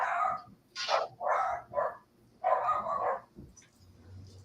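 Dogs bark in a quick run of sharp, loud woofs close by, the barks bunched in bursts with short gaps, then trailing off into a few softer yips and whines.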